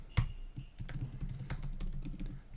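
Fingers tap out a password on a computer keyboard, a quick irregular run of close, crisp key clicks with one sharper strike near the start.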